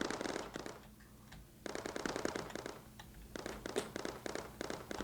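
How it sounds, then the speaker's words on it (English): Rapid bursts of turret fire in a Mindustry battle, quick rattling volleys separated by short pauses, moderately loud with no talking. "just try to draw scatter fire so they run out of ammo"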